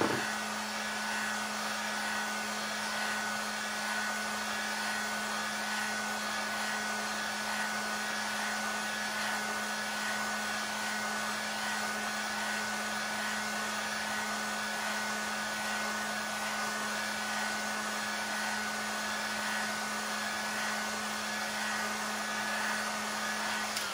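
A hot-air heater or hair dryer blows steadily to soften the glue on a 30 cm loudspeaker, a constant close-up whooshing drone with a fixed motor hum that runs unbroken and without talk.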